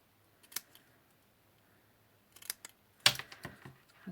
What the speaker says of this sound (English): fold over the edges and then just snip in again just the same